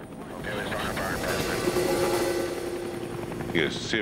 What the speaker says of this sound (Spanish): El helicóptero en el que iba Tim recibió un aviso